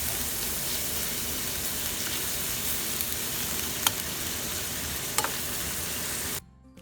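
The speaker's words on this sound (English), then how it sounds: "Bacon, you can fry until it's cooked" Bacon frying in a pan, a dense continuous sizzle and crackle throughout with a couple of sharper pops, cutting off abruptly just before the end.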